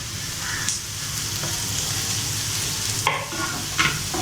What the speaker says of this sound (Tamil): நம்ம இப்போ பொரிச்சு வச்சுருக்க காலிஃப்ளவரை ஆட் பண்ணிப்போம்.